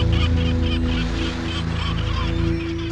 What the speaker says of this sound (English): The gulls hover around looking for scraps.